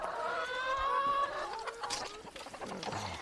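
Chickens on a farm in Chiang Rai, Thailand, clucking and squawking close by while feeding on banana leaves, with a few overlapping calls and rustling.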